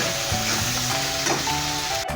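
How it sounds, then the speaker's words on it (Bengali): Ginger and turmeric spice paste frying in hot oil, a continuous close sizzle with a faint stirring scrape, ending abruptly. "এই মশলাগুলো সব একসঙ্গে কষে নেব।"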